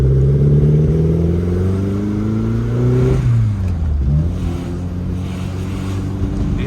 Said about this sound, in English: You heard that big misfire then?